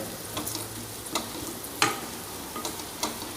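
Onions and green chillies sauté quietly in a pan for tomato rice, a low continuous sizzle broken by several sharp scrapes and taps of a spatula against the metal.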